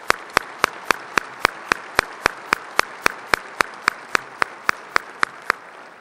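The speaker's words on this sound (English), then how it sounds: "Let's give her a round of applause." Claps for a speaker ring out in a steady, evenly spaced beat, about three per second for six seconds, crisp and fairly close.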